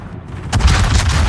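Naval gunfire from a Baltimore-class cruiser in World of Warships erupts midway as a heavy booming salvo, a thick low rumble that rises sharply and keeps rolling loud to the end after a quieter opening.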